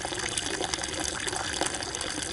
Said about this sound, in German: Der hier tröpfelt jetzt schon eigentlich relativ gut.